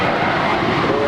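Airliner engines roaring at Los Angeles International Airport, a steady broadband rumble held at constant loudness throughout the short stretch, with no clear voices over it.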